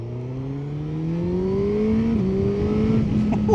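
A motorbike engine pulls hard while riding, its tone rising smoothly through the revs with a brief dip at a gear change before climbing again, loud and close with steady wind noise, no talking.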